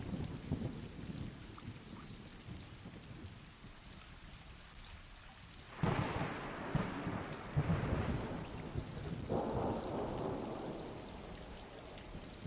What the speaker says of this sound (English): And we will wait until the rain is over.